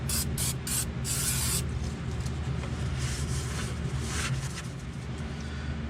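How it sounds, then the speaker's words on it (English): Cleaner is sprayed onto the parts of an Eaton Advantage clutch in a few quick hissing spurts followed by a longer burst, close and loud over a steady low background hum. "Let me get some cleaner and clean this off."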